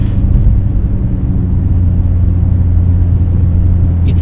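A car engine idles steadily and fairly loudly with a smooth, even low rumble and no talk, the car just back on the road after sitting unused during a lockdown.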